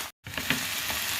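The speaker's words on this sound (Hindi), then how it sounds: "एक दफ़ा मैंने इसकी साइड चेंज कर दी है ताकि दूसरी तरफ से भी फ्राई हो जाए।" Fish frying in a pan, a dense steady sizzle after a brief silent gap, with a faint crackle partway through.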